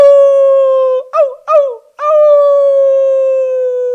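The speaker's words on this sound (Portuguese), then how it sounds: "E começou um uivo, um grito muito estranho." Strange, drawn-out howl outside at night, a loud steady tonal wail broken midway by two short warbling yelps before the long howl resumes, with no talking over it.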